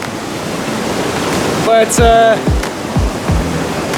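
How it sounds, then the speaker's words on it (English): Strong, flooded river rushing past a submerged causeway, a steady broad roar of water throughout, with a voice speaking briefly over it partway through. "this river's pumping"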